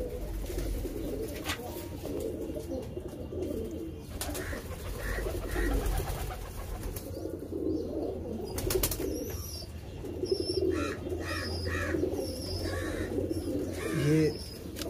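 Pigeons coo softly and repeatedly over a busy low rumble, with a few higher chirps and a brief flutter of wings.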